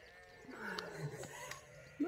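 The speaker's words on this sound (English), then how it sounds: "Can you hear all the sheepies?" Sheep bleat on a farm, one or two soft calls rising briefly over a quiet background.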